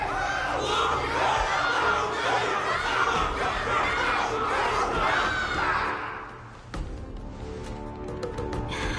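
Loud massed cheering and shouting from a crowd in Honkai: Star Rail carries on for about six seconds before dropping away into quieter background chatter.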